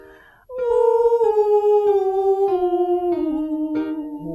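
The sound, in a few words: singers imitating an owl in vocal warm-up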